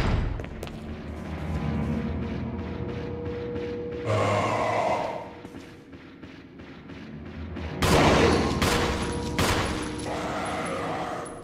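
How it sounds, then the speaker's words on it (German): Rifle fire at a zombie's head in the Resident Evil Remake, with sharp loud gunshot blasts cracking over dark game ambience, two separate heavy bursts standing out above a low rumbling background. "nehme ich das Gewehr und schieße den Kopf weg"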